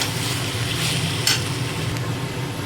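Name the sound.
stirring kasuri methi into chicken korma curry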